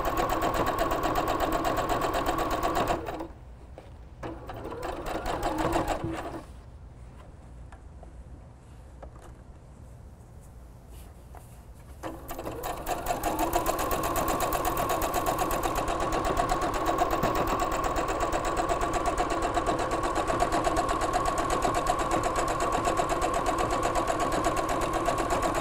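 A sewing machine stitches a curved seam on a bath towel cap, whirring steadily, stopping for several seconds, then briefly restarting and running continuously to the end.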